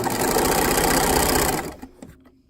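A sewing machine stitches around a patch pocket at a standard 2.5 stitch length, giving a steady, close, continuous whirring run that stops abruptly near the end and leaves faint handling noises.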